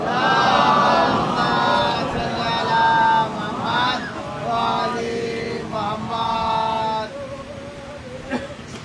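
Congregation at a Bengali Shia majlis chanting salawat in unison, a loud crowd of voices rising and falling in several sustained waves, fading into scattered murmurs near the end.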